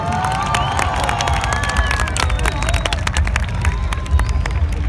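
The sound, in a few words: crowd applauding and cheering at bonfire lighting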